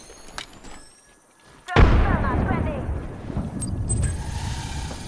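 A frag grenade goes off in the video game Apex Legends: a sudden loud boom with a long rumbling, crackling tail, preceded by quieter game sounds.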